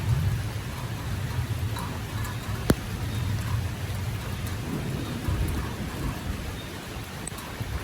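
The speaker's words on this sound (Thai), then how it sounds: "ฝนตกอย่างแรง" Steady, heavy rain hisses and drums throughout, with a low rumble underneath and one sharp crack partway through, and no one talking.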